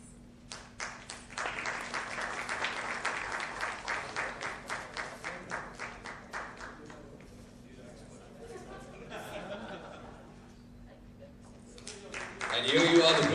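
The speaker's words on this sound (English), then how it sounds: "A huge round of applause" Guests applaud at the launch of the Rosevilla Phase 2 real estate project by Anil Kapoor. A strong burst of many hands clapping lasts several seconds, then thins to a quieter murmur before swelling again at the end.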